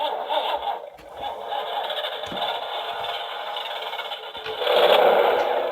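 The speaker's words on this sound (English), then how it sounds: "and the engine starts." A Hasbro Ghostbusters Plasma Series Ecto-1 toy plays its electronic engine-start effect, a scratchy, rattling motor whir that holds steady and then swells louder near the end.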